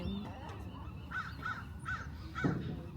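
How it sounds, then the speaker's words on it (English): A crow caws four times in short, evenly spaced calls over steady outdoor city background noise in San Francisco, moderately close and clear. "Look at the bird."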